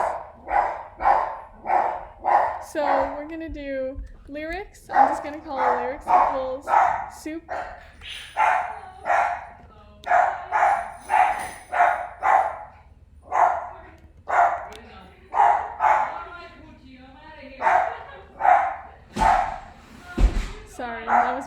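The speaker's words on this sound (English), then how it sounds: "Sorry, that was my dog. He's a little crazy." A dog barks in repeated sharp bursts, loud and close, sometimes yipping, through a long indoor stretch while a person keeps talking over and between the barks.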